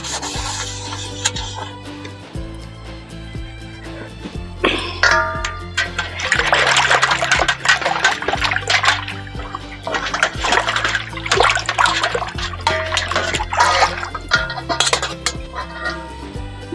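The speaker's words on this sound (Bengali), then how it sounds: "এটাকে আমি ভালো করে ধুয়ে দেখিয়ে দিচ্ছি।" A cleaned brass plate being rinsed and rubbed under water, with running water and repeated rubbing, scraping strokes against the metal, close and fairly loud, alone without talk.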